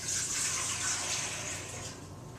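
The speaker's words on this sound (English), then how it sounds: "first, you're going to put 2 cups of water into the bowl" Two cups of water poured into a bowl while making bread dough, a steady bright splashing stream that runs loudly and then eases slightly toward the end, with no talking.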